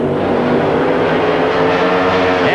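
Drag racing cars roar off the line at a 1992 NHRA national event, a loud sustained engine howl building as they launch down the strip, with no voices.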